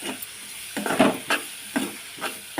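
Chopped tomato going into a pan for a dried-prawn and taro tamarind curry, giving a few short stirring and scraping bursts over a low steady sizzle, close and moderately loud.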